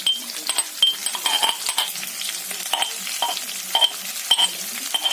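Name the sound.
pork frying and stirred with ginger garlic paste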